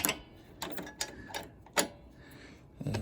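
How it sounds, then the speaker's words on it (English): Socket wrench ratcheting a lock nut tight on a vintage Honda CL350 rear foot peg, a few quick, close mechanical clicks in short bursts with faint bench noise between. "Put your washer in, lock nut on, just like that. Get that tightened up."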